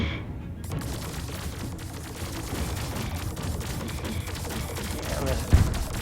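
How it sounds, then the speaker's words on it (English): Disruptors and torpedoes fire in the space strategy game Star Drive 2 in a dense, continuous barrage of rapid shots and rumbling blasts. A sharper impact lands near the end, and a voice may sit faintly beneath the battle noise. "see those disruptors are hitting those fighters there"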